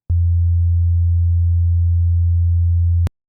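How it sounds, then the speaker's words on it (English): Two summed sine waves form one steady, loud low tone that holds unchanged for about three seconds and then stops abruptly, with no other sound. "you'll be able to hear that both the sine waves are summing together to become a louder version of"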